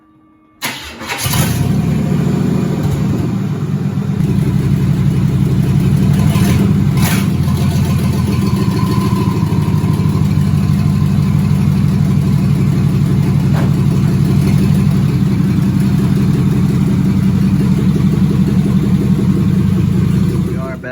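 A truck with 4L60E transmission problems starts up with a sharp burst, then a loud engine runs steadily nearby as it creeps forward onto a trailer, with occasional voices faintly underneath.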